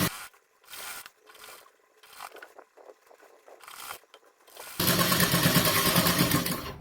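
A sewing machine stitches gharara dress fabric, starting as short separated bursts and fabric handling, then breaking into a loud, continuous whirring run near the end, close by and with no speech.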